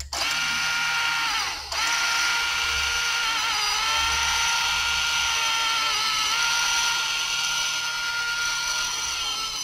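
A Honda Accord electronic parking brake caliper motor runs on 12 volts, giving a steady, loud whirring mechanical drone with a brief dip near the start before resuming unbroken.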